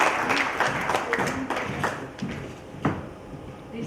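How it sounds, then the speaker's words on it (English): An audience at a South Asian cities summit applauds a speaker, with steady, dense clapping filling the room throughout, fairly loud and close, with a few sharper individual claps standing out. "A round of applause for this lady."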